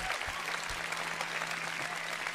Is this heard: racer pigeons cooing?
no